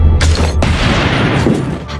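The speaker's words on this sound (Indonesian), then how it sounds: "gadis itu tetap menarik pelatuknya, tetapi Leon berhasil mendorong pistol itu pada saat terakhir" A pistol is fired in a film, with sharp, loud bangs cracking close by in quick succession and trailing into a heavy, booming reverberation.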